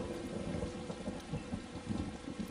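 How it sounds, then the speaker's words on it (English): Thunder in the video game Tales of Xillia 2 rolls as a steady, dense rumble mixed with a rain-like wash, holding fairly even loudness throughout without any speech. "Man, this thunder's pretty intense, huh?"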